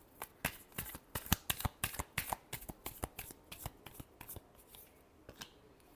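Tarot cards are shuffled nearby in a quiet room, giving a steady run of sharp papery snaps and flicks that thin out toward the end, with no talking.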